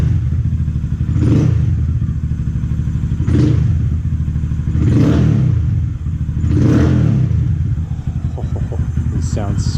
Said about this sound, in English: This exhaust is pretty loud, fam.